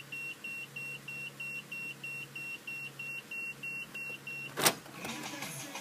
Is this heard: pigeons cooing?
no